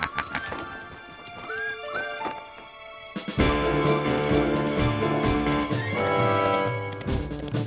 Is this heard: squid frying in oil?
no